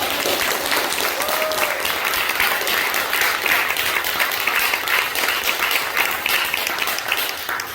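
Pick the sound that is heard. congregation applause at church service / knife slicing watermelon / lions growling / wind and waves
congregation applause at church service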